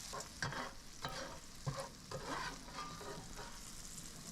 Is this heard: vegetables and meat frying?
yes